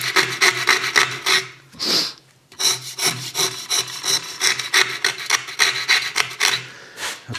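Rasp filing the wooden heel of a guitar neck, loud close rhythmic scraping strokes in a steady back-and-forth pattern with one brief pause.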